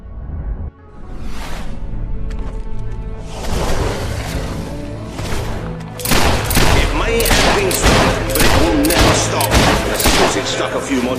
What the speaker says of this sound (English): When you need to attack a target from a great distance and don't mind sacrificing firing speed,